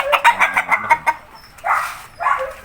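Chickens on a small backyard farm cluck in a quick run of short, loud calls, then let out two longer drawn calls after a pause, close by and without voices.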